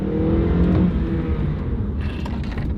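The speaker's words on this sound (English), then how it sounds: "when you step on the gas, they get up and go." A Honda car engine revs and pulls away, a steady loud roar that shifts in pitch as it accelerates, with no one talking.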